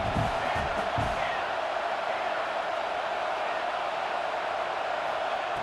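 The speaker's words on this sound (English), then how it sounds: "listen to this crowd noise. This stadium is vibrating." A dense, steady roar from a football stadium crowd fills the air, with a brief burst of louder shouting at the start before settling into a constant wash of noise.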